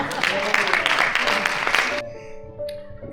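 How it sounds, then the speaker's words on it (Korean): Audience applause at a knowledge economy forum, a dense burst of clapping that stops abruptly after about two seconds, followed by a quieter room with a voice. "박수 한번 쳐주세요"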